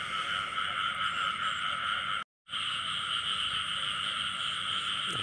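Dense chorus of many frogs croaking at night in a rice field, a steady continuous trilling wall of calls that briefly cuts out, then resumes at the same loud level.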